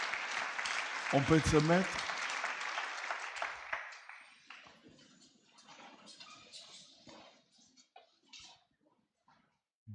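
A church congregation breaks into loud applause and cheering that swells early, then thins into scattered claps and murmurs as a voice speaks over the fading noise.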